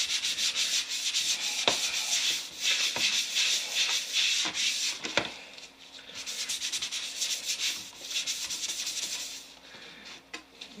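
Steady abrasive rubbing over an airbrushed surface as overspray is worked off the paint, a continuous close scraping hiss with a few sharp ticks and brief pauses, no talking.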